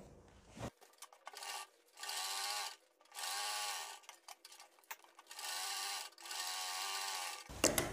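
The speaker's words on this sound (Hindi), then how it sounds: "बुकरम के बराबर बराबर अंदर की तरफ आपको सिलाई लगानी है नीचे से ऊपर तक" Sewing machine stitching a kurti alongside buckram, running in several steady bursts of whirring with short pauses between, close and alone with no talk.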